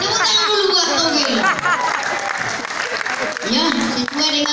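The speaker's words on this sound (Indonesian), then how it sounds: "tepuk tangan dulu buat Togel" Audience applause for a Batak stand-up comedian named Togel, dense clapping with chatter and a voice over it, steady and loud throughout.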